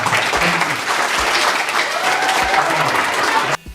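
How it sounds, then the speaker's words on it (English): A round of applause from a youth audience at a motivational speaker's event, loud and dense clapping under a few shouted voices for nearly four seconds before cutting off abruptly. "Give these guys a round of applause."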